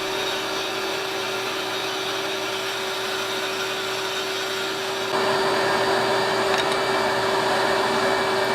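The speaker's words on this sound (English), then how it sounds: "My first cut on the bandsaw is going to be just to remove the waste and get the piece squared up." A bandsaw cutting a wooden guitar body drones with a steady, loud, whining motor hum that grows noticeably louder and harsher partway through as the blade bites into the wood.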